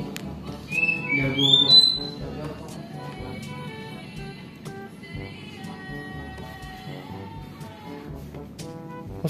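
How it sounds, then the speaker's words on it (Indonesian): A white-rumped shama (murai batu) sings bright whistles and squawks in a house, loudest early on, over a steady busy background with other sounds throughout. "Murai murai batu,"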